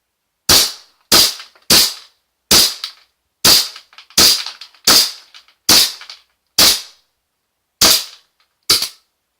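Double Star 1911 SOCOM Gear gas airsoft pistol firing twelve sharp, loud, close shots at irregular intervals of roughly half a second to a second, each snapping crack cut off cleanly with silence between.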